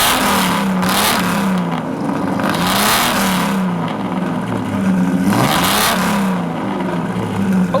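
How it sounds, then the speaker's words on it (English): A Lamborghini Jarama's engine revs hard in repeated surges, the pitch climbing and falling three times in a loud, close, steady run, with no voices. "It sounds like it's qualifying for Le Mans every time you rev it up."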